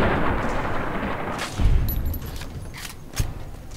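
Gunfire in Fallout: New Vegas, a few sharp shots ringing out at a moderate distance over a steady background rumble, with two louder bursts spaced apart.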